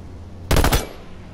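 A short loud burst of gunfire in the video game H1Z1, a rapid cluster of shots lasting about a third of a second over quiet game ambience, fading with a brief tail.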